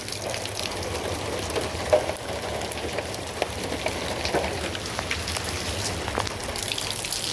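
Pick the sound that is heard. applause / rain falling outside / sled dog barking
rain falling outside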